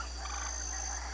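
A puppet performer's voice imitates a frog croaking, a single sustained ribbit-like call, close and fairly loud, with no other talk.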